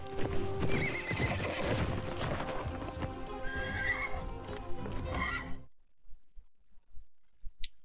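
A horse whinnies over clopping hooves amid busy sound effects in the video game Alexandra Ledermann: Le Haras de la Vallée, then everything cuts off into near silence with a few faint taps.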